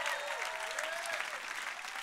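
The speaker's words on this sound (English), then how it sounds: "Somebody give God a big hand clap right now." Church congregation applauding during a sermon, a steady dense wash of hand clapping that fills the whole moment with no speech over it.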